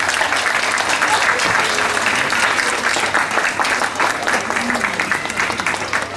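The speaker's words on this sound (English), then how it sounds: "Now I must hear a loud clap coming for them." Sustained, loud audience clapping at a Grandparents Day celebration, a thick continuous wash of many hands with faint crowd voices mixed in, tapering slightly toward the end.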